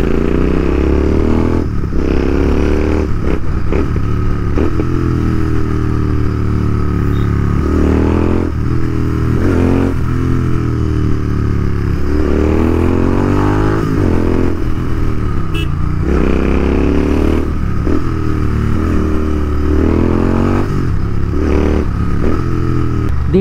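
A limited-edition GT650 motorcycle is ridden hard, its engine droning loud and steady from close by. Repeated rising and falling revs mark gear changes and downshifts, with brief clatter and no talking.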